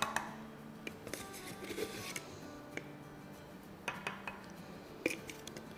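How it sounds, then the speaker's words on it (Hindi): Small clinks and taps of a spoon against a bowl or cup as cornstarch is spooned into water for a slurry, a few sharp light ticks spread out over quiet room tone. "तो उसमें डालेंगे around 4 tablespoon cornstarch, cornflour, corn soup बनाने वाला।"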